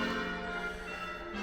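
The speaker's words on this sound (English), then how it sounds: "As soon as these bells stop," Church bells ringing near a graveyard, a sustained, resonant toll heard from some distance, steady and moderately faint throughout with no talk.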